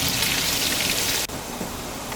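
Chopped onion, pimento, scallion and hot pepper such as Scotch bonnet sautéing in a pot on a Big Green Egg, a steady loud sizzle throughout with a brief dip partway through, no talking.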